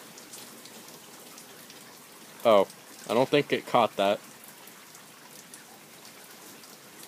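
Rain falls steadily during a thunderstorm, an even soft hiss throughout, while a person speaks briefly in the middle.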